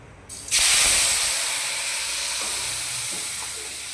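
Vathaku chutney is poured into a hot pan after the stove is switched off, setting off a sudden loud sizzling hiss that stays strong and then slowly fades, with a few faint clinks and no talking.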